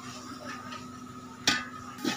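Masala being stirred in a pot while mutton kasha cooks, a steady low sizzle with a couple of sharp scrapes and clinks of the spoon against the vessel.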